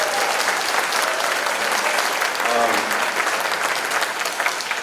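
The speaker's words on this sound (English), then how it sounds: "Can you please have another round of applause for our wonderful 6th grade band?" Sustained applause from a large audience at a school spring band concert, steady and dense clapping throughout, fairly loud and close.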